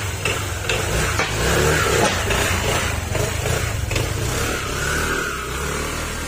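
Honda Click160 scooter engine running on a road test, a steady mid-pitched drone with slight rises in revs, continuous and fairly close throughout, no talking.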